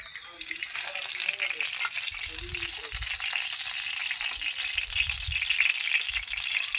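Oil poured into a hot kadai sizzles and crackles steadily for several seconds, a bright continuous hiss with a brief louder burst at the start and some low clatter underneath.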